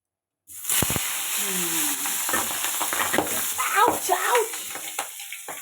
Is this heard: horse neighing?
no